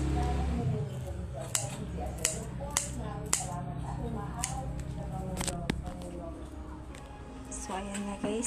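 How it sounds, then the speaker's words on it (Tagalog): Scissors snip through chili peppers in a home kitchen, a series of sharp, close cuts spaced irregularly over a low steady background hum, with faint voices present. "Gagawin natin ay ikakat po natin yung ating sili."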